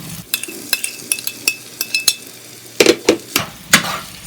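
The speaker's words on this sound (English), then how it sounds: "now I'm going to throw in the eggplants." Eggplant pieces tumble into a pan of frying onions, giving a run of sharp clinks and knocks with a spoon against the pan over a low sizzle, the impacts growing louder and denser toward the end.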